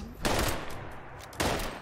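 Gunfire in the video game Fallout 76: two loud, close shots about a second apart, each a sharp burst that rings out briefly before fading.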